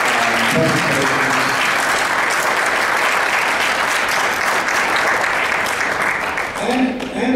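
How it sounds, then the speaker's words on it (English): Audience applause for a parks panel after their presentations, a full, continuous round of clapping from a crowd, with a voice briefly audible at the start and again as it fades at the end. "give the whole panel a big round of applause for their presentations"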